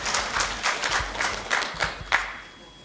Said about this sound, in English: We should also all be clapping